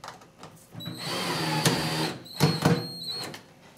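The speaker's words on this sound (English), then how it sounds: "Once my drill slows down," A power drill whirs in short bursts, rising and slowing as it drives a screw into plastic on a microwave/refrigerator combo, close by and fairly loud.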